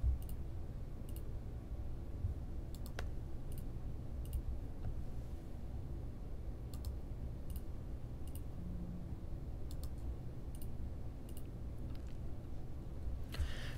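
Faint, scattered computer mouse clicks, single and double, tick softly over a steady low background hum during software setup, with no voices.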